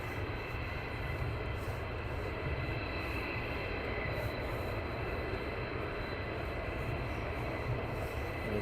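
Military aircraft taxiing at RAF Lakenheath, a distant steady jet-engine roar with a broad even rumble and hiss lasting throughout, no talk.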